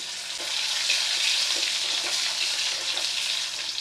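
Small pieces of boiled potato fry with cumin in hot oil, a continuous bright crackling sizzle heard close and alone, with faint movement as they settle in the pan.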